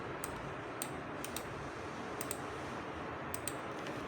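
Typing on a computer keyboard during a mail merge letter lesson: scattered, faint key clicks in small irregular bursts over a steady background hiss, with no talking.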